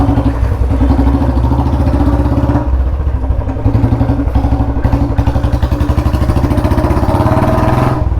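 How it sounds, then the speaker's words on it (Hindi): Royal Enfield Bullet 350 motorcycle being ridden with modified alloy rims, its loud single-cylinder engine thumping steadily and close, a continuous pulsing rumble throughout with no talk. "लाउड भी भाई बड़ी हो गई है अपनी बुलेट ना, मज़ा आ रहा है चलाने में।"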